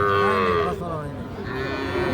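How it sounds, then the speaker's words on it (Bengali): A Sahiwal bull calf at a busy cattle market moos loudly and close, two drawn-out calls with a short gap between them, over faint crowd murmur. "শাহিওয়াল ষাঁড় বাছুর।"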